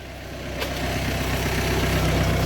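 A Hyundai ix35 engine runs during a road test after repair of an ABS fault with new tyres and a new CV joint, a steady low drone building slightly in loudness, heard from inside the car.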